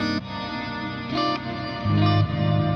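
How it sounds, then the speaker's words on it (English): A clean, ambient guitar tone for djent-style leads, drenched in washed-out reverb with no delay or repeats, sustained notes ringing and blurring together, played alone and fairly loud. "you don't want any delay at all, you just want a really washed out reverb"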